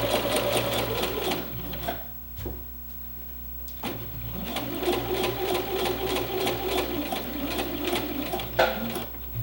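A sewing machine stitches a double dart in fabric, running in close, steady mechanical bursts with a short pause partway before the motor hums on again.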